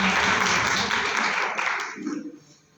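An audience claps in welcome for a woman honoured with a major award, dense applause filling the room and then thinning and fading out toward the end.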